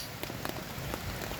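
Rain pattering steadily on a tarp at a winter campsite, a close, dense hiss of drops with a few sharper taps.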